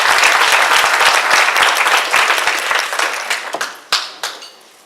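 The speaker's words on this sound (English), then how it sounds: "Let's give her another round of applause." Audience applause at the WEE ACT award dinner 2018, dense clapping from a large room that thins into scattered individual claps and fades out near the end.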